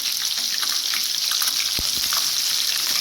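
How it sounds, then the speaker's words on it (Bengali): Onions frying in hot oil for a country chicken curry give a steady close hiss of sizzling, with one brief clink midway and no talk. "এখন আমি পেঁয়াজটা দিয়ে দিব তেলের মধ্যে"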